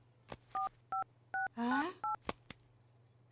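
A phone number is punched in, producing a quick run of quiet two-tone keypad beeps with a short warbling tone partway through and silence in between.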